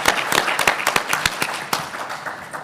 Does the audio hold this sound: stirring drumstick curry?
no